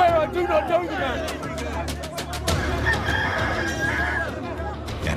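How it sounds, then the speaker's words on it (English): A rooster crows loudly over murmuring crowd chatter in a courtroom-style dramatization of Peter's denial, its long call cutting through the background voices. "the cock crows"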